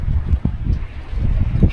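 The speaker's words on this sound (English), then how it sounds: "It's so windy." Gusty wind on a river buffets the microphone in low, rumbling bursts that rise and fall over a couple of seconds.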